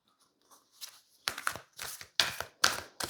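Tarot cards are shuffled close by: after a few soft taps, a run of four or five quick, crisp riffling bursts follows in a fairly even rhythm.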